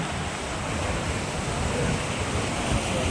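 Continuous roar of sea waves washing in at a beach in Digha, mixed with wind rumbling against the microphone, steady and broad with no distinct voices.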